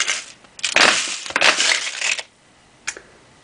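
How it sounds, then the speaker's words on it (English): A rotating plastic storage organizer full of keys and buttons is turned by hand, giving loud rattling, clattering bursts as small items shift inside, then a pause and one short final rattle. "this is my Rotavision, and it is kind of loud when I turn it a little bit"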